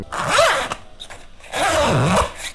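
A pencil case zipper pulled twice, each a quick rising-and-falling zip close by, with a short pause between them.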